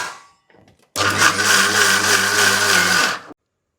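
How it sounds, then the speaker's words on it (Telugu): A mixer grinder grinding soaked urad dal in its soaking water starts abruptly and whirs loudly for about two seconds with a steady motor drone, then cuts off into silence. "అదే వాటర్తో మిక్సీ పట్టేయండి"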